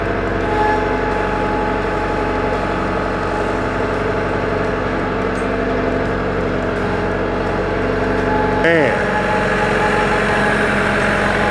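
Tractor engine idling steadily close by, a constant low diesel drone with vibration and a brief mechanical shift near the end; no voices.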